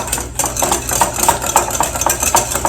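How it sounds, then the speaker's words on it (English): Egg yolks and filling for a key lime pie being whisked in a big bowl, a quick steady run of scraping strokes against the bowl, close and fairly loud. "Just whisk this together. Make sure you break up those egg yolks."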